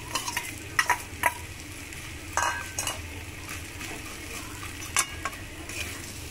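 Gobindobhog rice is stirred into a pumpkin curry with grated coconut in a pan, making soft scraping spoon strokes and light clatter over a faint, steady sizzle.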